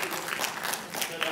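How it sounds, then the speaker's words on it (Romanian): An audience at a Romanian cultural ceremony claps in a continuous burst, with some speech mixed in underneath. "Atunci să-l aplaudăm."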